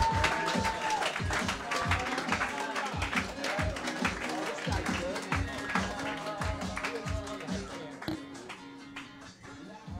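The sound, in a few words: audience applause at comedy roast battle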